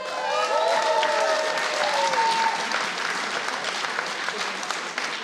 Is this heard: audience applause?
yes